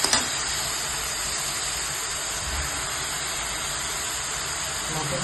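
Mutton added to hot oil with cooked ginger garlic paste in a pan, a steady loud sizzling hiss that continues evenly after a brief initial burst.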